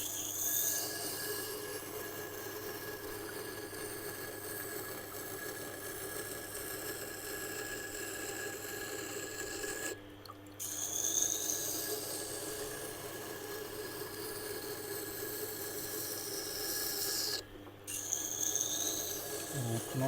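A knife blade is stroked steadily across a resin bonded diamond sharpening stone, giving a continuous close, rhythmic rasping scrape, broken by two brief pauses.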